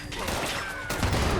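Heavy explosive weapon fire in Fallout 76 sounds as grenades launch and burst in quick succession against a level 100 super mutant, with a dense, booming low end.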